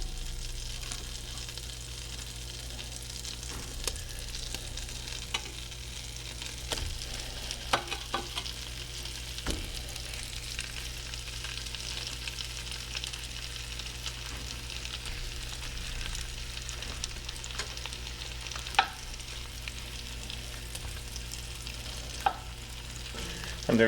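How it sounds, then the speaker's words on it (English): Sausages browning in butter in a pan over medium-low heat give a steady soft sizzle and faint crackle, with occasional small clicks of stirring, heard alone at a moderate level throughout. "I'm going to add some more butter to the pan. And I'm going to add the sausages now to brown them up."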